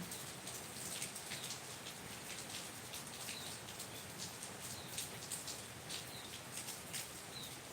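Steady rain patters down continuously on surfaces, a dense hiss of drops with no voices, lasting the whole stretch.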